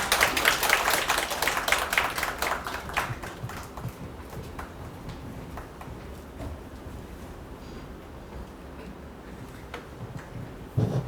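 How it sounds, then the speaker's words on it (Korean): Audience applause welcoming a speaker at a customs broker information session, a short burst of clapping at the start that thins into scattered, fading claps. "큰 박수로 맞이해 주시기 바라겠습니다"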